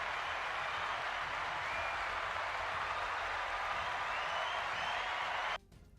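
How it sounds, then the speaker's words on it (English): Dense, steady applause from a crowd fills several seconds at a moderate level, then stops abruptly near the end. "Sorry, I forgot to do a round of applause."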